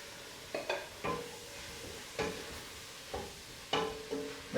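Mushrooms and leeks are stirred in a frying pan, a faint background sizzle punctuated by repeated metallic scrapes and clinks of a utensil against the pan at uneven intervals; no talking.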